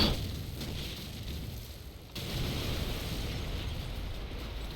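Grenade explosions during a Call of Duty 4 esports match, a loud rumbling blast followed by a second muffled burst with a sustained roar of noise between them.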